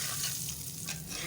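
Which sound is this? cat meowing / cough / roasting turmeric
roasting turmeric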